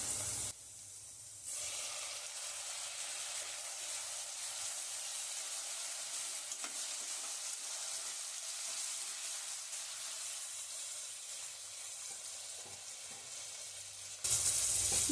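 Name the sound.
tomatoes sautéing with onions in a pan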